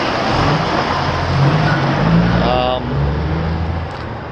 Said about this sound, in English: And I've got a truck going back,